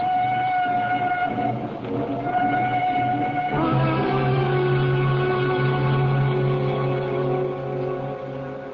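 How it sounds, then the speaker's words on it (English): A train sound effect for a radio drama: a sustained, harmonic whistle-like horn sounds loud and close, shifting to a deeper chord partway through and holding, then easing off at the end. "There's a train which will bring me into Waterloo at 8."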